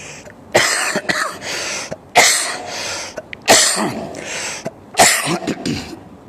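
Several harsh, broadband coughs from a man with a cough after rain exposure, in irregular bursts, close and loud, with brief quiet gaps between them.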